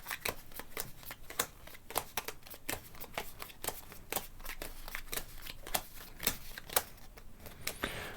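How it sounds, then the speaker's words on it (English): Cards being shuffled in quick, repeated riffles, a crisp flurry of snapping bursts at close range with no talking. "let's just shuffle these very quickly"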